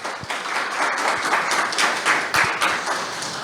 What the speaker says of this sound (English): I would like to ask you to have an applaudissement for the technical support as well.